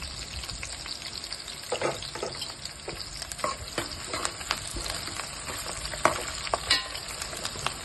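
Curry leaves frying in hot oil for spicy mutton head curry make a busy crackling sizzle with frequent sharp pops and spatters, heard close up and without talking.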